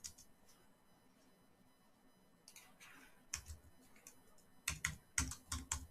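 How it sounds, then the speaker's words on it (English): Quick bursts of typing on a computer keyboard, close, with scattered clicks early and then rapid clustered keystrokes, with no talking. "Doug, why are you typing in all caps?"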